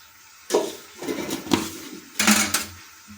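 A spoon scraping and knocking against a metal pot while ground coriander and cumin are stirred into vegetarian bhog khichuri, in a few separate bursts of clinking strokes, fairly close and clear.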